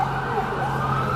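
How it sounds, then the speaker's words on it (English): Emergency vehicle sirens wail on a Toronto street, a rising and falling tone sounding moderately distant over a steady low traffic hum. "Here comes the sirens one more time."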